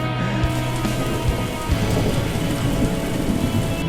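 Steady heavy rain pours down with rumbling thunder during a long-distance charity run between Bandung and Batu Karas, a continuous loud wash of drops over deep low rumble throughout, with no voices.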